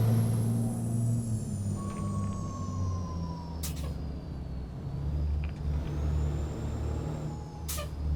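Kenworth W990 logging truck in American Truck Simulator, a steady low diesel drone with brief sharp air-brake hisses near the four- and eight-second marks and faint higher whines above.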